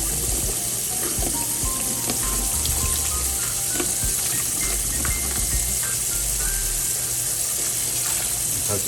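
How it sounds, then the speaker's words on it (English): A generous amount of vinegar runs into a basin while refurbishing parts of a ResMed AirSense 10 CPAP, giving a continuous close hissing splash over steady background hum. "I'm going to go ahead and put in a pretty liberal amount of vinegar here."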